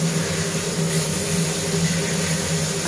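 Steady droning hum of an overhead kitchen chimney exhaust fan running while cooking, a constant broadband whir with low tonal bands, loud and unbroken throughout.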